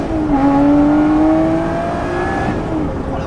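A Lotus Exige 430 Cup accelerating hard at full throttle in second gear, its engine note rising steadily in pitch as revs climb, loud and close from inside the car, with no talking.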